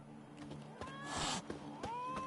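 A cat in The Witcher 3: Wild Hunt meows twice, a short call and then a rising, drawn-out meow against quiet game ambience.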